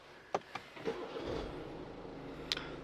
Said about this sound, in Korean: 자 이 차량 시동 한번 걸어보도록 할게요